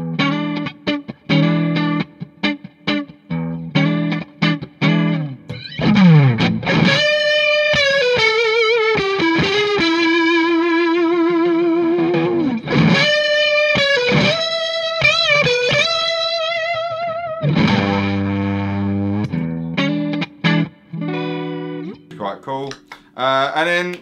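Electric guitar runs through a pedalboard of effects set for a Leslie-style rotary swirl, playing sustained distorted chords and melodic lines with wobbling chorus-like modulation, loud and continuous with brief gaps.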